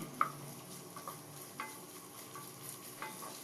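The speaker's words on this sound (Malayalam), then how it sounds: "ഇതിലേക്ക് ഒരു വലിയ സവാള സ്ലൈസ് ചെയ്തത് ചേർക്കാം ഒന്ന് വഴറ്റി കൊടുക്കാം" Sliced onion and curry leaves are sautéed in oil, making a quiet, even sizzle with a few soft spoon scrapes scattered across it.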